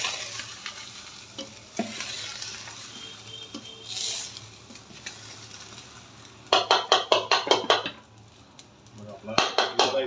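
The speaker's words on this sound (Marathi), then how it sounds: "आपण थोडासा हलवून घेणार." Jeera rice is stirred in a pan with a soft sizzle of frying underneath, then a quick run of rhythmic scraping spoon strokes against the metal, and another short burst near the end.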